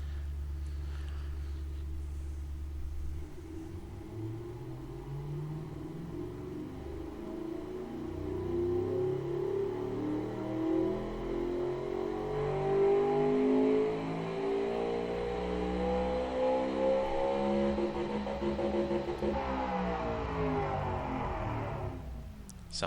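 A simulated car engine with dual straight-through mufflers in the Automation game idles low, then revs steadily upward for a long sustained climb before cutting off, loud and close with no talking.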